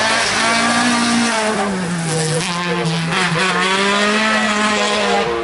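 Race cars rumble and rev steadily beside the start line of an asphalt sprint, among them a Honda Civic. The engines are loud and close and run continuously without any talk.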